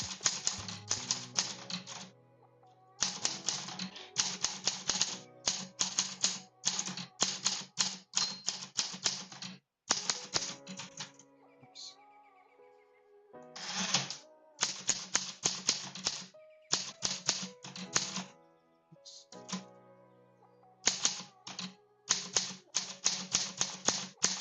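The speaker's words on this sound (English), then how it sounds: "it's really fun to write on a physical, actual typewriter" A physical manual typewriter typed on in bursts of rapid clacking keystrokes, broken by brief pauses and occasional carriage returns with a ding, close and clear with no talking.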